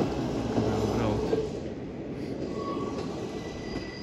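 A train rolls past on rails near the Teplice rocks in Czechia, a loud close rumble with wheel squeal that eases slightly as it goes by.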